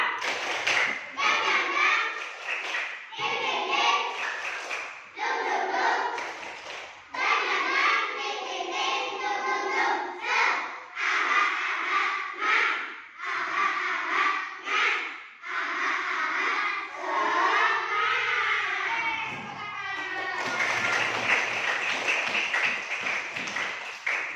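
A class of schoolchildren performs a rhythmic spirit clap (tepuk semangat), with bursts of patterned hand claps under loud group chanting that continues throughout.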